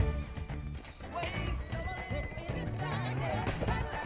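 A horse whinnies in a scene from The Greatest Showman, a short neigh set amid film music and sound effects, moderately loud with voices nearby.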